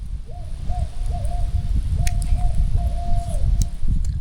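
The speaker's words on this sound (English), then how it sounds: "Oh, there's an owl." An owl hoots several times at night in the woods, fairly close, its low tonal calls spaced irregularly against a background of steady low rumble.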